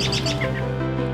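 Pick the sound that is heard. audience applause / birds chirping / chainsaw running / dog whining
birds chirping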